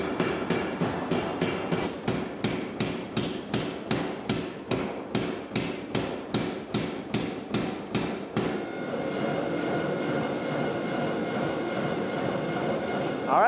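Hammer strikes forge-welding a layered Damascus steel billet, a fast, steady rhythm of close, loud ringing blows for about eight seconds, then the pounding stops and leaves a steady roar, likely the forge.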